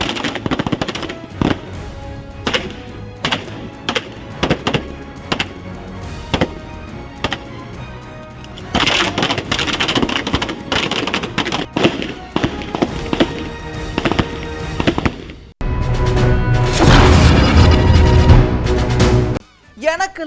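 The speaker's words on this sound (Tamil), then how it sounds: "அகில இந்திய மகளிர் காவலர்களுக்கான துப்பாக்கி சுடுதல் போட்டி நடந்திருக்குது" Pistols and revolvers fire at a women's police shooting competition, giving a steady run of sharp, loud shots with some crowding close together, while crowd noise and talk fill the background.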